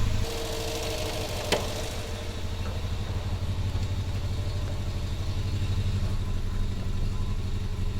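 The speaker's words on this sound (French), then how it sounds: "Comme si elle tournait que sur 3 cylindres." A car engine runs roughly, as if firing on only three cylinders, with a close, uneven clattering pulse that keeps on steadily and a single sharp click early on.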